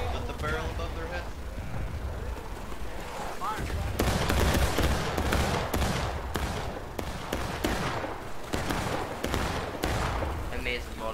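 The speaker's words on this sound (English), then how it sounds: "Fire. Amazing volley at the time." Musket volleys crackle and boom in a War of Rights battle, with a dense burst of overlapping shots from about four seconds on, several sharp cracks following close together, and a voice talking over the gunfire.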